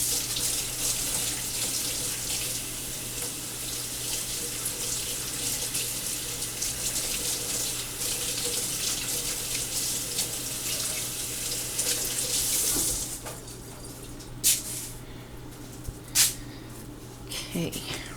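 Water runs steadily from a tap while hands are washed, a close continuous splashing hiss that stops near the end, followed by a few faint knocks and clatters.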